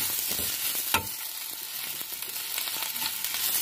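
Sliced okra fries in a pan with turmeric, salt and chili powder for a South Indian okra rice dish, giving a soft, steady sizzle with a brief stirring scrape and no voices.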